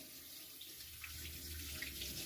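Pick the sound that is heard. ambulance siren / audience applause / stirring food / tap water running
tap water running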